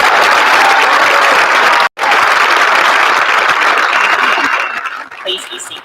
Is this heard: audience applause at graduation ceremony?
yes